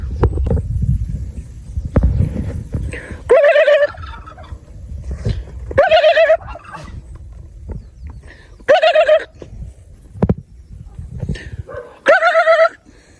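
Turkeys on a farm gobble in four loud, rippling bursts spaced a few seconds apart, with low rumbling handling noise and scattered knocks in between.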